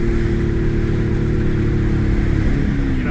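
A Ford Mustang sedan's exhaust drones steadily while driving, a loud, continuous low engine rumble with a slight rise toward the end and no talking.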